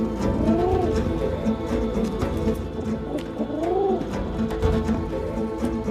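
Pigeons coo in soft, rolling phrases, two clear calls standing out over a steady murmur of birds and background noise.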